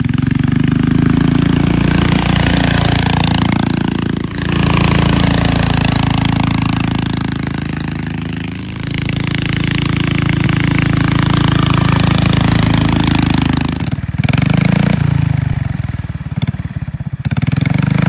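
A loud XOT-1 crosskart engine revs and drones continuously while the kart is driven, pitch rising and falling with throttle and brief dips around gear or speed changes, heard close up with no talk.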